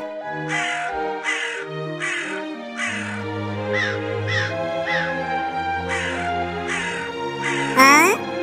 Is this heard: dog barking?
no